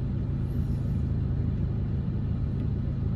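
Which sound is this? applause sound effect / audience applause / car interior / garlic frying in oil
car interior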